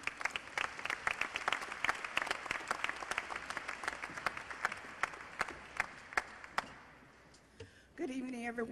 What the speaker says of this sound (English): Let's give a round of applause for the youth.